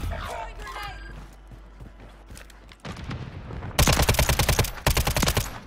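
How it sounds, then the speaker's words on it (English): Gunfire from the video game Call of Duty Modern Warfare III, first scattered distant shots, then loud rapid automatic bursts close up in the final two seconds, with players talking over it. "They're shooting us from the back."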